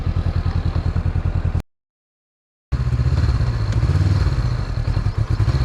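A 2021 Honda CB500X motorcycle engine runs with a steady pulsing thrum while riding through city streets, cutting out briefly in a silent gap before resuming and rising with throttle.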